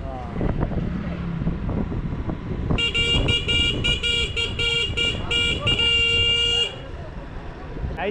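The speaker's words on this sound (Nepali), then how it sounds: "हर्न क्या मिठो छ है" A new motorbike's horn sounds in a steady run of rapid, bright toots for about four seconds, loud and close, with wind and engine noise underneath.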